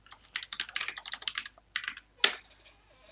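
Rapid typing on a computer keyboard, close and clear, in bursts of quick clicks with a short pause before a final burst and one sharp louder keystroke.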